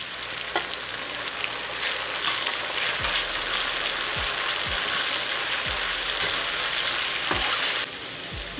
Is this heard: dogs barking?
no